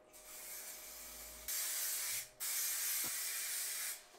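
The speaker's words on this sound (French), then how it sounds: "on va mettre un peu de colle en spray sur les jeannettes, sur les différents t-shirts pour fixer le t-shirt pour pas qu'il bouge entre chaque impression" Spray adhesive hisses from an aerosol can onto screen printing pallets to hold t-shirts in place, in two close, steady bursts of about a second each, with a short gap between.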